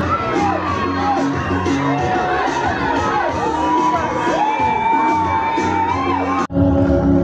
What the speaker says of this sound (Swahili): Wa pili kuingia jukwani anakaribishwa kwa vifijo na nderemo